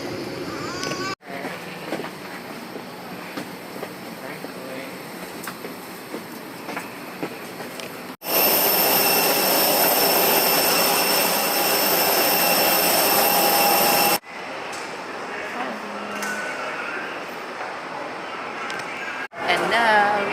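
Airliner jet engines after landing on a flight from El Nido, Palawan to Manila, heard from inside the cabin as a steady broad roar that swells louder midway, then settles back, with people talking over it.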